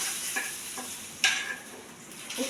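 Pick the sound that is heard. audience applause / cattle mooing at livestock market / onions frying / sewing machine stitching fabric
onions frying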